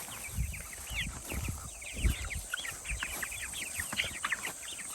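Ginger broiler chickens chirp and cluck steadily in a busy flock while feeding outdoors, with scratching and pecking thumps underneath throughout.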